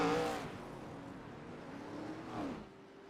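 ARCA Series race cars accelerating off pit road at Daytona, a moderately loud engine roar that rises and falls with passing revs, with a brief surge near the end before fading.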